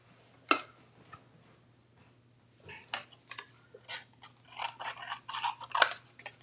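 A small mini cutting tool trims card stock with crisp, scattered snips, one sharp cut early and then a quick cluster of clipping strokes near the end, close and clear in a quiet room.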